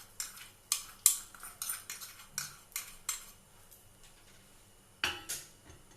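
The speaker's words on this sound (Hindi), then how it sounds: "और अब मैं इसको स्पून की सहायता से इस मिक्सचर में डाल देती हूँ।" A spoon scraping and tapping against a metal bowl while adding ground asafoetida to a powder mixture, a quick irregular run of bright clinks and clatters, close and fairly quiet, with no talking.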